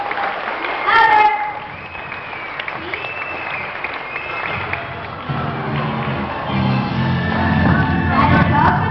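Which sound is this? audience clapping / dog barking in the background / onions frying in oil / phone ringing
audience clapping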